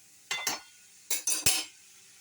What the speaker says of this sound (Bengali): এবারে ঢাকনা চাপা দিয়ে রেখে দেব।